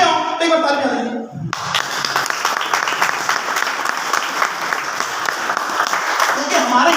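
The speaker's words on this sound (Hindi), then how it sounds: "अगर आप थक गए हो तो एक बार ताली बजा देंगे" A seminar audience claps together: a brief scattered start, then a dense, steady wash of applause from a large indoor crowd that carries on at full strength to the end.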